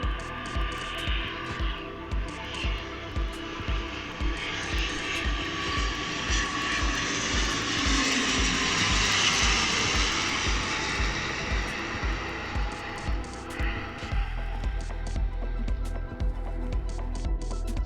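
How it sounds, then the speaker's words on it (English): A fixed-wing airplane takes off near El Médano in Tenerife, a loud, sustained engine roar that swells and builds to a peak midway before gradually easing off, heard alone without talk. "you could be in good luck to take a plane that is taking off."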